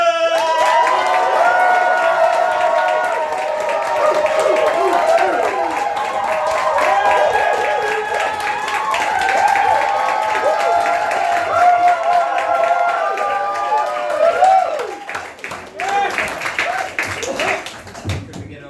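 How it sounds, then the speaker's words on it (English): An improv graduation show audience applauds and cheers for a team, sustained clapping and crowd noise filling the room with a host's voice calling out over it, tapering near the end. "Give them a huge round of applause when I shout their name, and cheer and cheer and cheer"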